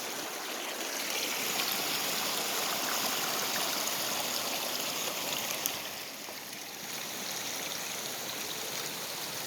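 Oregon creek water rushing and burbling steadily at close range, a dense, continuous wash with no voices over it.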